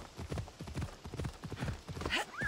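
Horse hooves clip-clop in a steady, close walking rhythm in the video game Assassin's Creed Odyssey, with a brief rising chirp near the end.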